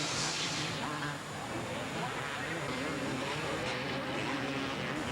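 A motocross bike engine at full throttle, landing a triple at the 1987 Mount Morris, Pennsylvania motocross national, makes a steady, distant roar that runs throughout under crowd noise and commentary.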